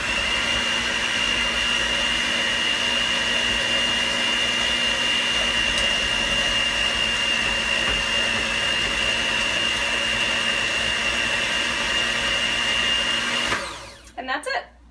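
An electric mixer beats cake batter in a steady, loud, continuous whir that runs unchanged for about thirteen seconds, then cuts off abruptly, leaving a few faint handling sounds.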